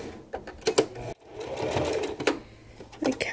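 Home sewing machine stitching thick fabric for a dog coat, made from a Simplicity S8861 pattern, with close, whirring runs of stitches broken by short pauses and clicks as the fabric is pulled.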